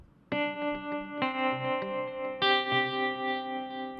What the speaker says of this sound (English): I have an extra guitar here